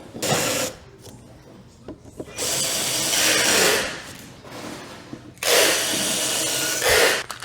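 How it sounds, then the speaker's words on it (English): A countersink bit bores divots into plexiglass screw holes on a wooden chick brooder build, whirring in three separate sustained bursts with quieter pauses between. "We use our countersink to countersink the holes to essentially create a divot where the screw head can go into the plexiglass."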